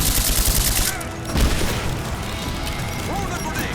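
Grenade blast and rapid gunfire in Rise of the Tomb Raider, a dense fusillade of shots up front, then a heavy thumping explosion, with continued combat noise and shouted voices underneath.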